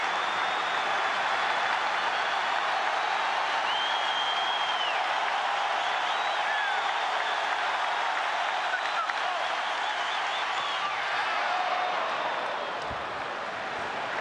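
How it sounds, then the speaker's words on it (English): A large baseball crowd at Citizens Bank Park roars in a steady, dense wash of cheering that holds loud for the whole stretch, easing slightly near the end. "Crowd here at Citizens Bank Park sensing something special here tonight"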